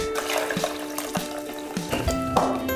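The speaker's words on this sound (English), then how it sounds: "Drain the water from your dates" Soaking water draining from dates in a kitchen, a steady splashing pour with small intermittent clunks and drips, no talking.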